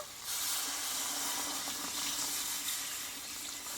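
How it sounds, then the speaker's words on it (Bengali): Milk poured into a hot pan of sautéed moong lentils and pointed gourd (potol) makes a steady, close hiss and rush that holds for about three and a half seconds, with no voices. "এইবার এখানে আমি দুধটাকে আমি দিয়ে দেব"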